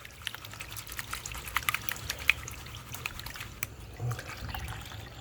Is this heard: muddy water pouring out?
yes